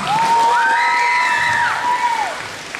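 An audience at an elementary school musical applauds and cheers, a steady wash of crowd noise with a rising and falling whoop or whistle over it.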